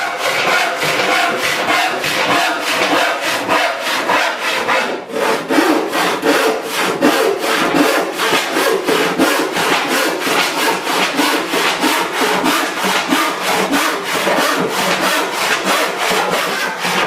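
A hand saw cuts through wood in steady back-and-forth strokes, first a cross cut and then a series of rip cuts, the rasping rhythm loud and close with only a brief pause partway through.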